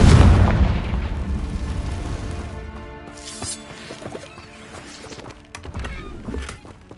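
A Confringo spell explosion in Hogwarts Legacy, heard as a loud booming blast at the start that fades into a rumbling tail, followed by scattered lighter impacts and ambient game sound.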